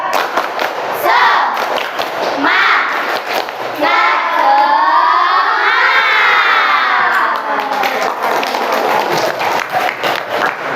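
Schoolchildren in a classroom perform the 'tepuk semangat' clapping chant, loud shouted voices and rhythmic hand claps in unison, with a sustained cheer in the middle before the claps resume.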